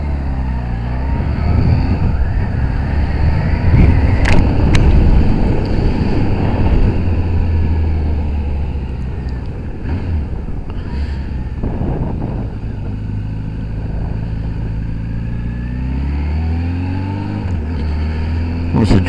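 A Kawasaki ZRX1100 motorcycle on a road test in semi-wet conditions, its engine droning steadily at close range with shifting pitch as it accelerates and changes gear, a continuous loud rumble with brief clicks.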